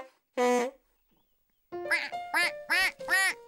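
A single loud quack, a pause, then four quick quacks in a row, close up, with no other sound between them.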